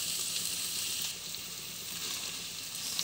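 Jackfruit pulp for payasam cooks in a pan on low heat, giving a steady, close sizzle and frying hiss with a faint stirring texture and no talking.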